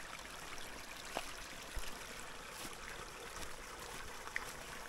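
Forest spring water flowing at a spring in Zhurchalka on an overcast day; a steady, soft trickling wash with faint splashes, continuous and unbroken throughout.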